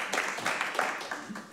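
Audience in a hall applauds at the start of a fashion talk evening, a dense, steady wash of clapping lasting the whole moment, with voices mixed in.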